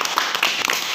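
Children in a school classroom clap briefly, a quick patter of close, overlapping hand claps lasting about a second.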